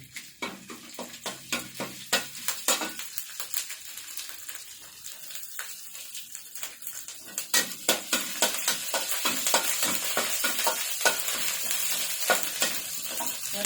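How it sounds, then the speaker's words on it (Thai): Curry paste stir-fried in oil for a catfish red curry: close, steady sizzling with repeated scraping strokes of a spatula against the pan, growing busier and louder toward the end. "ใส่น้ำมันลงไปค่ะ ใส่พริกแกง"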